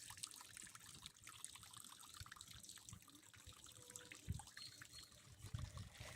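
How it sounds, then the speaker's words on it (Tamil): Water trickles steadily down into a rock pool on a hillside at an ancient hill site in Namakkal, a continuous soft splashing and dribbling close by with a few louder splashes toward the end. "மேலே அங்கேருந்து வருது தண்ணி."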